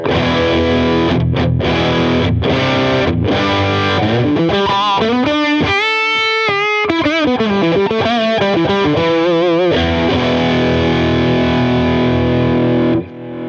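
Electric guitar through a Harley Benton Tube15 tube amp with the gain at maximum, heavily distorted chords and fast lead runs with long sustain, loud and alone.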